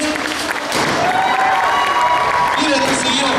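An audience bursts into warm, sustained applause and cheering to welcome young dancers of a ballet troupe's youth category, a dense, steady wash of clapping with crowd voices underneath.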